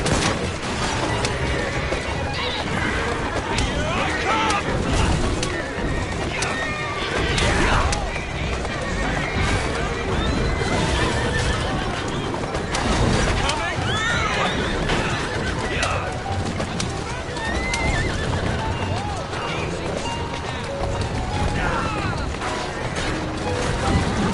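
Horse-drawn carriages in Assassin's Creed Syndicate: horses neigh and whinny with clip-clopping hooves, rumbling wheels and occasional crashes, over continuous game dialogue.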